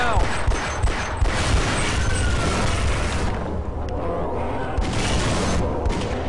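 Dense, continuous booming blasts and crackling bursts fill the whole stretch, loud and close, like rapid game explosions and gunfire layered together with no pauses.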